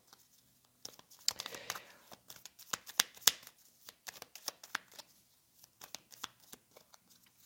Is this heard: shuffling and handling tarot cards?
yes